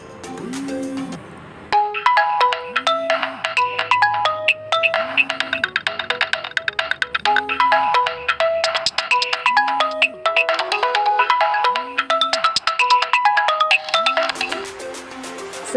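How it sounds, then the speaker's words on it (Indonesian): A bright electronic WhatsApp Android notification melody repeats over and over in a steady loop, clear and loud, with no talking. "suara notifikasi WhatsApp Android"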